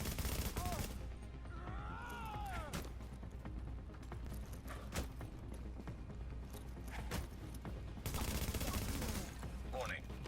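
Enemy gunfire in The Division video game, bursts of automatic shots and impacts crackling continuously in the mix, dense and moderately loud throughout, with a voice talking over parts of it.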